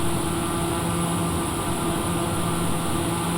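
A TBM930 turboprop aircraft at full power on takeoff makes a loud, steady, unbroken engine and propeller drone that fills the whole stretch without a break.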